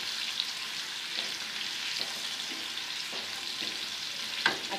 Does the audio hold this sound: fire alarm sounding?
no